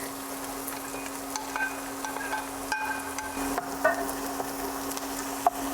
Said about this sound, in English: So I'm going to saute our onions and garlic.